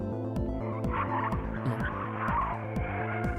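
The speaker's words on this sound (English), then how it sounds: "Is that the shriek of car tires?" Car tires screeching in the Robotics;Notes Elite visual novel, a loud sustained squeal with a rhythmic pulsing pattern, repeating short skids over an engine rumble, with no talk.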